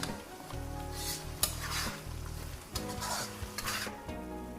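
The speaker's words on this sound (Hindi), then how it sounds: "और चम्मच में चलाती जाऊँगी ताकि गाजर ने नीचे से ना लग जाएं" Grated carrots frying in oil in a pan for gajar halwa, stirred with a spoon: steady sizzling under repeated scraping strokes and a few sharp clinks of metal against the pan, close and moderately loud, no talking.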